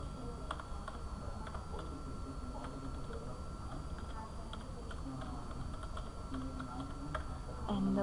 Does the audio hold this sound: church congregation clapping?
no